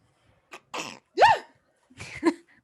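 A single person's sneeze bursts out sharply and close, framed by a few quick breaths and short vocal sounds before and after, with no speech.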